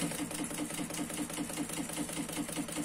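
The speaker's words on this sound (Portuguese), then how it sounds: "a gente vai fazer uma costura ao redor todinho, bem em cima dessa marcação aqui" A sewing machine stitches small stitches along a marked line around a fabric diaper-changing pad, giving a fast, even mechanical whir with rapid rhythmic ticking, close and continuous at a steady level.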